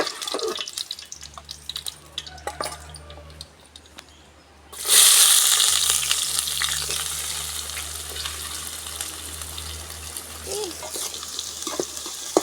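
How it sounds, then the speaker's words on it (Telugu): Onions sautéing in a pan make a faint crackle at first, then a loud, steady sizzle bursts in midway and continues with a bright, frothy hiss. "ఉల్లిపాయలు అయితే బాగా మగ్గుతున్నాయండి"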